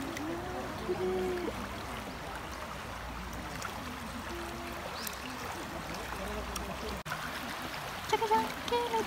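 Gentle babbling of the Isuzu River flowing past Ise Shrine's Inner Shrine, a steady broadband water murmur that holds throughout, with a slight rise near the end.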